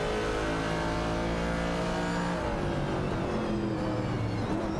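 Engines of classic race cars, including a 1968 Pontiac Firebird and a Ford Falcon, drone and rev steadily in an AI racing video game, a loud continuous roar with shifting pitch throughout.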